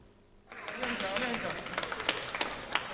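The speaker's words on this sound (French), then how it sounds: "Un applaudissement pour accueillir Kouma Bizin, un membre de la famille" A gathering in Mauritius applauds to welcome a guest, scattered claps starting after a brief pause and mixing with voices talking nearby.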